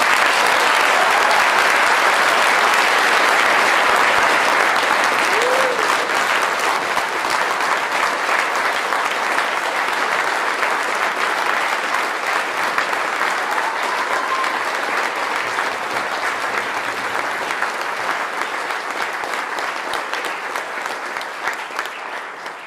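Sustained applause from a large audience at a military retirement ceremony honoring retirees and their families, steady dense clapping that fills the room throughout and slowly tapers toward the end.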